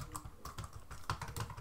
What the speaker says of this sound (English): I seriously love typing on this machine.